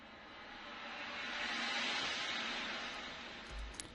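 A reverse cymbal with automated delay and cathedral convolution reverb swells as a faint airy noise wash, rising to a peak midway and trailing off, low in volume and alone.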